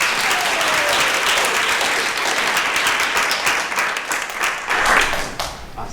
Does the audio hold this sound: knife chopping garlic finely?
no